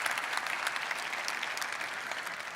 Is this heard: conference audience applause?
yes